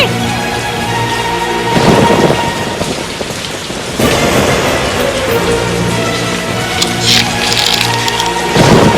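Heavy rain pours steadily at night, a dense continuous downpour with occasional swells and rumbles of thunder, loud and close throughout with no voices.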